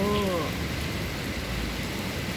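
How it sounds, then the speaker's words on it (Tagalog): Rain falls steadily in Bahrain, a dense even hiss heard from a window, with a brief tonal sound at the start. "Ulan sa Bahrain."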